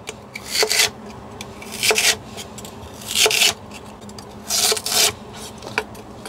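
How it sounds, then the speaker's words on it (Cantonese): A kitchen knife slices fresh lotus root into fairly thick pieces on a board, producing about five loud, close, rasping strokes spaced roughly a second apart, each a crunchy scrape with a soft knock at the end. "之後就將佢全部切片啦，咁啊切翻厚些少啦"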